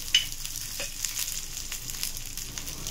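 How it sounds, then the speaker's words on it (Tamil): Urad dal and chillies fry in a teaspoon of oil, giving a steady close sizzle with faint stirring scrapes and no talk. "இதை நல்லா உளுத்தம்பருப்பு சிவக்கிற வரைக்கும் வறுக்கணும்."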